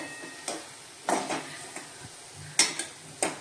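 Vermicelli frying on low heat in a pan is stirred and flipped, with a series of separate utensil scrapes and clinks over a faint steady sizzle.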